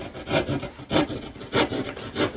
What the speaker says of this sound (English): Now you can use a keyhole saw like this to cut out the circle and start cutting.